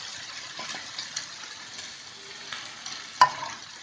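Ginger, chilies and tomatoes stirred into sizzling gravy for dry cabbage Manchurian, a steady close frying hiss with soft spoon scrapes and one sharper clack near the end, no talking.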